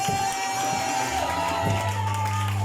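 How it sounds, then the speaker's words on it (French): A church congregation cheers and acclaims the Lord in a loud, continuous crowd roar, with steady sustained musical tones running underneath throughout. "On acclame pour le Seigneur"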